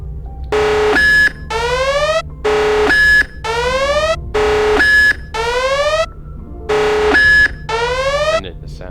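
Base alarm in the Roblox game Stargate Explorers, a loud repeating electronic alert: paired tonal blasts and upward-sweeping bleeps cycling four times in a steady rhythm, close and dominant.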